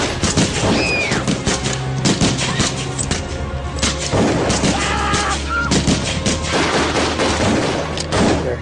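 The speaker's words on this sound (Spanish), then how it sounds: "Y fue entonces cuando oí los disparos." Dense, continuous gunfire with many overlapping bursts and cracks, loud and chaotic, as at a mass shooting near an airstrip with planes waiting to take off; faint voices surface briefly amid the shots.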